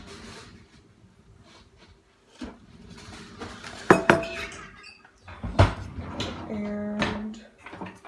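Metal pan being handled in a kitchen before heating oil for frying, with scattered clanks, scrapes and a ringing clink, close by and irregular, with faint talk in the background.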